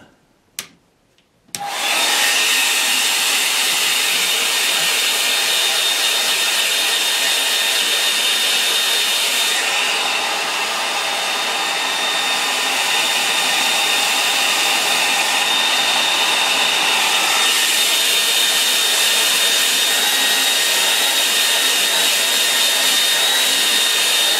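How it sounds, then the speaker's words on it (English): After a couple of faint clicks, a hair dryer switches on and blows loudly and steadily, a constant whirring roar that shifts slightly in pitch midway, drying paint. "I'm going to dry that with a hairdryer"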